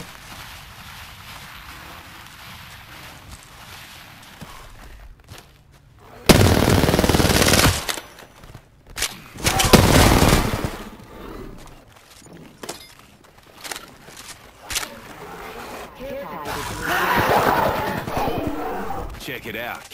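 Gunfire in a battle royale video game, with loud bursts of rapid automatic fire coming in several separate volleys and shots cracking close by, while players talk to each other between the bursts.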